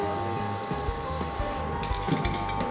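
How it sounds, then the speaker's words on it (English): Magnetic particles are sprayed onto a weld during magnetic particle testing with an AC yoke, producing brief hissing spray bursts over a steady electrical hum, with faint mechanical clicks nearby. "and then we spray the magnetic particles"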